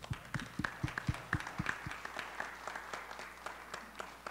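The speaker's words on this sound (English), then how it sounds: "we offer him a great round of applause" An audience at a Buffalo census public hearing gives a round of applause, sharp separate claps in a quick rhythm that thin out and fade over a few seconds.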